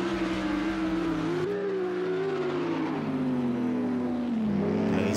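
A Mercedes AMG GT3 race car engine from a racing video game at the Red Bull Ring drones steadily close up, its pitch wavering through gear changes with a dip and a rise near the end, without voices.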